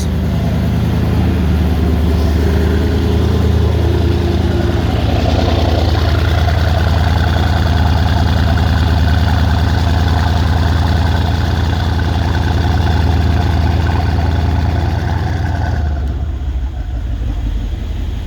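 A rebuilt 2012 Mercedes E63 with 198k km idles steadily and loudly up close, a deep even rumble that holds for the whole stretch and dips slightly near the end.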